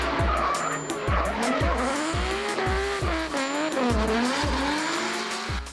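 Nissan Skyline GT drift car driven hard through the high-speed Turn 1 sweeper at Pukekohe Park Raceway, engine revving in repeated rising pulls over continuous loud tire squeal and skidding, close and sustained throughout.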